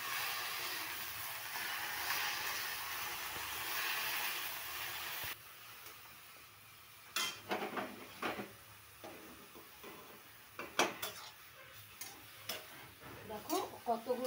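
Leafy greens salted and frying in a pan give a steady sizzle at first, then quieter frying broken by intermittent scraping stirs and clinks of a utensil against the pan.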